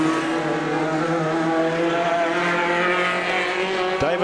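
Off-road race cars at a national final in New Zealand, engines droning steadily and loudly on track, with sustained multi-layered engine tones shifting pitch as they pass and a brief sharp knock near the end.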